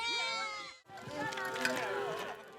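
Goats bleating in a herd in Samburuland, Kenya, with several overlapping wavering cries close by, a brief pause, then a denser chorus of bleats.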